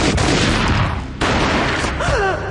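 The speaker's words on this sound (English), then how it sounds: "A gunshot boomed and she fell down in slow motion." Video game gunfire in Max Payne Mobile: a loud volley of booming shots in rapid succession, cut off by a brief pause before another burst, with a voice briefly heard near the end.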